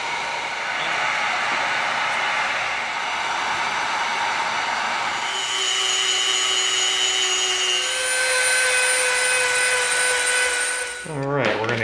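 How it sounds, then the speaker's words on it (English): A heat gun blows steadily over EVA foam on a foam Doom Hammer prop, a continuous airy whir with a rising whine partway through, then a short clatter at the end. "now we're gonna hit this real light with the heat gun just to tighten up the foam"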